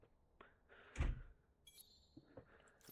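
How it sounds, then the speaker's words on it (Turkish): A door thuds shut once, a single loud heavy knock near the start, followed by quieter shuffling and a few faint clicks and electronic tones. "Kapı."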